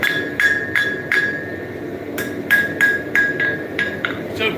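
Hammer blows ring out on a railroad spike resting over an anvil's pritchel hole as it is bent toward a 90-degree angle, about a dozen sharp, bright metallic strikes in an uneven rhythm, close and loud, with no talking.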